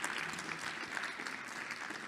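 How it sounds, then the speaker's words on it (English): Audience applause for an investors panel at an education-financing event fills the room as a continuous, fairly quiet patter of many hands, steady from start to finish. "Another round of applause, please,"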